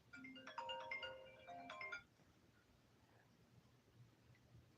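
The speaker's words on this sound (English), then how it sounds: "My phone is ringing." A phone ringtone plays a short bright melodic pattern for about two seconds, then stops, leaving faint room hiss.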